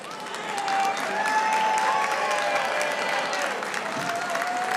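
An audience at a benefit gala applauds, a sustained wash of clapping that swells early and then holds at full strength, with faint crowd voices and a tonal background underneath.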